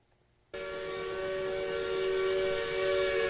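A steam whistle blows suddenly and holds a steady, loud, sustained tone, like a train whistle sounding close by.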